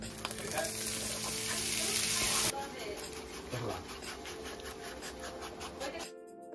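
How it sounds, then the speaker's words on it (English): Tamales heating in a pan on the stove, a loud close hiss that drops after a few seconds into a softer sizzle with rhythmic scraping or ticking, then cutting off at the end. "Have some tamales heating up on the pan."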